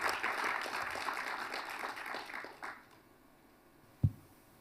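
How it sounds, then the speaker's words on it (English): An audience at a conference on African financial reform applauds loudly, then the clapping thins and fades away, and a single dull knock follows in near quiet. "You deserve a very loud round of applause"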